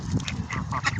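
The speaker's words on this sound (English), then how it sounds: "ducks," Ducks quack in quick, overlapping bursts outdoors alongside Canada geese and pigeons, a short lively cluster of calls at moderate distance.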